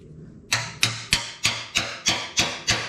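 Eight sharp, evenly spaced blows of a hammer on a panel splitter ring out close by, each a bright metallic strike with a short decay, after a brief quiet start.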